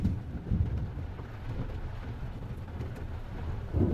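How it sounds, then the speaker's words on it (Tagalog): Heavy rain drums on a Kia Sonet LX automatic (2025) driving through floodwater, a steady dense roar with low rumbling swells near the start and end, no voices. "malakas ang ulan ngayon"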